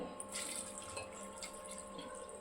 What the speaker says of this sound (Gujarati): આપણે પોણા ગ્લાસ જેટલું પાણી નાખ્યું છે